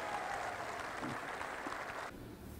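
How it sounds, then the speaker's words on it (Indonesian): A hall audience gives long applause for Dahlan Iskan, a faint, steady patter of many hands that cuts off and drops away near the end. "Tepuk tangan yang panjang untuk Pak Dahlan Iskan"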